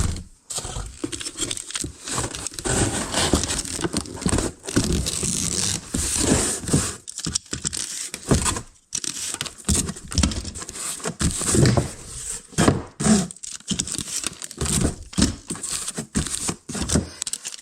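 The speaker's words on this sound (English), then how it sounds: "I'll get this all taped up." Packing tape pulled and pressed across a shipping box: repeated ripping, screeching stretches of tape with scraping and rubbing between them, continuous and close with no talking.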